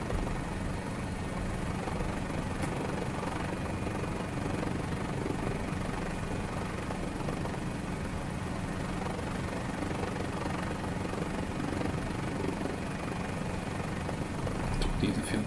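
A Mini 500 helicopter engine running steadily in Microsoft Flight Simulator, heard as a continuous droning hum with a low buzzing rotor texture, constant and unchanging throughout.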